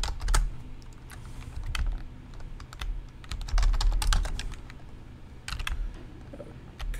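Linux command typed on a computer keyboard: close, quick key clicks in irregular bursts with brief pauses, no voices.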